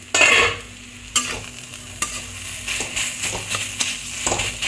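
A Bengali thor ghanto curry of banana stem sizzles in a pan while it is stirred, with repeated scraping strokes and a steady close frying hiss.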